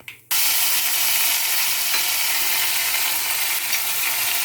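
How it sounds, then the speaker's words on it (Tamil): Ginger-garlic paste hits hot oil with mustard seeds and erupts into a loud, continuous, hissing sizzle that holds steady for several seconds, close and with no speech. "அடுத்து நம்ம இஞ்சி பூண்டு விழுது எடுத்து போடுவோம்."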